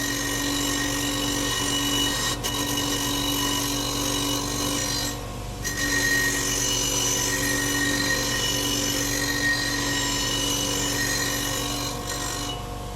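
A Harbor Freight Bauer 8 inch variable speed bench grinder runs steadily while cleaning up metal, a loud continuous motor hum with rasping, scraping contact noise, close up and without talk.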